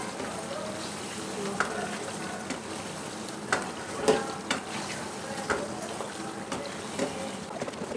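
Mutton karahi sizzles and fries in a pan over lowered heat, a steady close crackle broken by occasional sharper pops and stirring scrapes, with a voice speaking faintly at moments.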